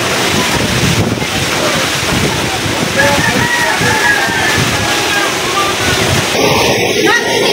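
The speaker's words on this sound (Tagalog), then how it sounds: "Napaka lakas ng hangin." Very strong wind from Typhoon Uwan roars across the island of Barangay Bani, Lavezares, Northern Samar, a loud, unbroken blast that thrashes the microphone alongside sloshing water, with a voice faintly beneath.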